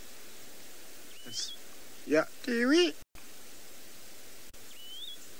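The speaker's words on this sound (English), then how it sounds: "that's a bird called yellow-throated longclaw" A yellow-throated longclaw gives thin rising whistled calls at a grassland safari setting, clear but moderately faint against steady wind-like hiss, with a person speaking briefly between the calls.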